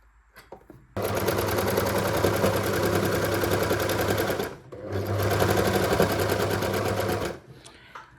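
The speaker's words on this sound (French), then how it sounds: "on va venir coudre ici et ici à la surjeteuse" Overlock serger stitching the seam of a draped top, running in two long, steady, loud bursts with a brief pause between, its fast mechanical hum dominating, no talk.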